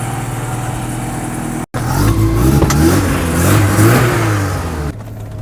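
A Porsche 944 Turbo running an aftermarket ECU and slightly high boost revs on a test drive, its engine note rising and falling loudly up close, with a brief cut near the start and a fade at the end.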